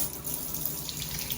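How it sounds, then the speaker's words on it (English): Steady hissing rush of water from a Cocojor micro bubble shower head, continuous and fairly close with broad bright spray noise and no talking. "once you hear the hissing sound, that is the sound of the Minicle Micro Bubble"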